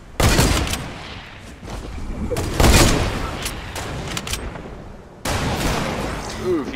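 Video game gunfire crackles in rapid, dense bursts, loud and close, with heavy volleys that swell and break off and then start again over about seven seconds.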